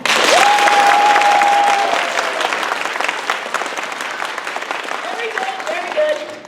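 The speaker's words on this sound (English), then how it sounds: "applaud as loudly as you can now" Loud theatre audience applause during a courtroom-style play, a full burst of clapping that starts strong and gradually eases, with a whistle and voices mixed in.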